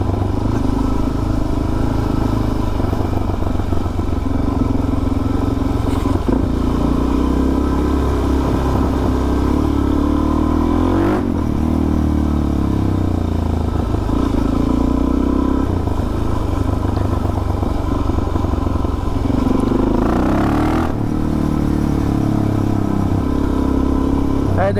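Suzuki DR-Z 400 single-cylinder motorcycle engine runs steadily and loudly, with a constant mid-pitched thump and brief throttle blips as it accelerates, close to the microphone and continuous throughout.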